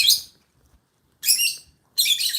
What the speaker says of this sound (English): Birds are a beautiful thing, aren't they?